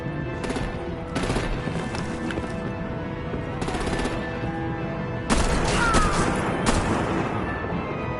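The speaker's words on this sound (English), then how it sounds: "Break out the artillery and disable their vehicles!" Gunfire and artillery in a Batman video game: rapid bursts of automatic fire and heavy blasts in several clusters, loud and close, with no clear talking.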